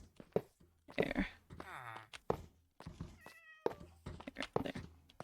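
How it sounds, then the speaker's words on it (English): A cat meows in the Minecraft video game, giving a clear, close meow amid a player's ongoing talk, with a few game thunks nearby. "I am hearing a kitty cat."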